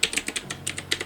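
Quick typing on a computer keyboard sounds as a rapid, uneven run of close, soft key clicks lasting about a second, with no voice.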